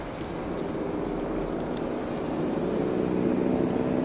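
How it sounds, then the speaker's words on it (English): A helicopter in the video game Jurassic World Evolution 3 drones as a steady, moderately quiet engine hum without a break, with no one talking over it. "they're waiting for the other helicopter to put that down"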